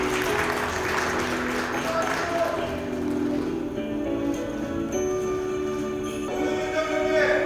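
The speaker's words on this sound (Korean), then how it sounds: "큰박수 부탁드립니다" Audience applause at a regional council chairs' meeting, a dense clatter of hands that thins out partway through, with a few sharp pings and taps over it.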